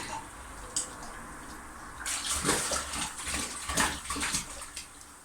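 A bathroom sink with water running while legs are washed, a soft flow that swells into louder splashing and sloshing from about two seconds on, close by, with no talking.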